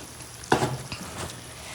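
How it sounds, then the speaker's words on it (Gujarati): Spiced potato and tomato curry being stirred in a pan, one sharp scrape and clatter of the spoon followed by a softer second stir over a low steady sizzle. "આવી રીતે શાકને મસ્ત હલાવ્યા કરવાનું"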